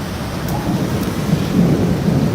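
Deep rolling thunder rumbles through a heavy hailstorm in Brisbane, Queensland, with a steady hiss of rain and hail underneath and the low growl swelling louder toward the end.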